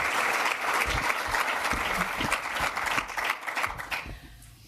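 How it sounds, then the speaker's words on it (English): An audience at a panel event gives a big round of applause, dense steady clapping from a large crowd that carries on for several seconds before thinning out at the end. "can I have a big round of applause for my excellent"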